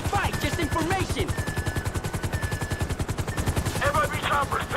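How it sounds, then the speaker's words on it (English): Rapid bursts of automatic gunfire in a rooftop shootout during a raid in GTA V, loud and continuous, with shouted voices over the shooting and a helicopter's beat in the mix. "we're taking fire from the left side of the roof!"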